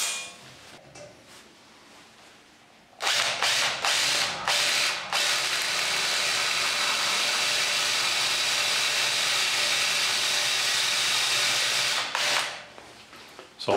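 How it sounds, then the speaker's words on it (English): A drill bit grinds steadily into metal countersinking a hole in a bracket for about nine seconds, loud and close, with a faint mechanical ticking before it starts. "I'm now just going to countersink this side of the hole using this drill bit"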